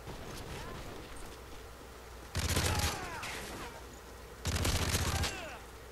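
Modern Warfare 3 hip-fire gunshots: two loud sustained bursts of rapid automatic fire break out over quieter game background, each lasting about a second and a half.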